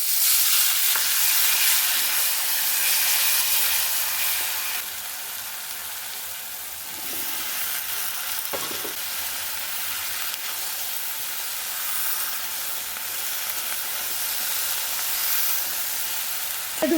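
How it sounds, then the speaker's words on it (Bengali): Potato pieces fry in hot oil in a pan with a bright steady sizzle and hiss, broken by occasional stirring scrapes and sharp pops, with no talking over it. "আলুগুলো খুব ভালো করে ভেজে নিতে হবে"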